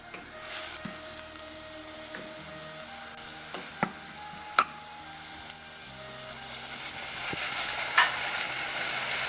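Ginger garlic paste fries with onions in a pan, giving a soft continuous sizzle broken by a few sharp clinks and scrapes of a spoon stirring against the vessel.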